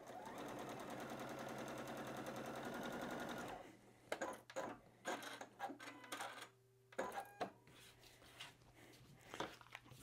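A sewing machine runs steadily for about three and a half seconds as it stitches red and white quilt fabric. After it stops, soft clicks and handling sounds follow, with quiet intervals between them.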